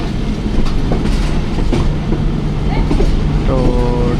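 The Jaffar Express rolls nonstop out of Taxila Cantt Junction toward Rawalpindi, giving a loud, steady rumble of wheels on rails with a rhythmic clatter and a faint squealing tone near the end; a voice speaks over it.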